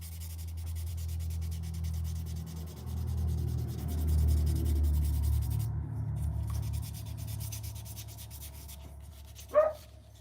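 Low, rough rubbing of a tobacco pipe being sanded to remove scratches, steady scraping strokes close by with a brief sharp knock near the end.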